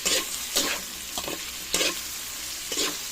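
Tofu sautés for adobong kangkong, with a steady close sizzle of frying that is broken by repeated bursts of stirring and scraping in the pan, and no talking.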